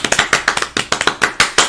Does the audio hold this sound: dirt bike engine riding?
no